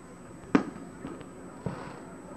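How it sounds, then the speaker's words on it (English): Fireworks go off at a boardwalk, one sharp nearby bang followed by two softer, more distant pops over faint outdoor ambience. "There are some fireworks happening right now."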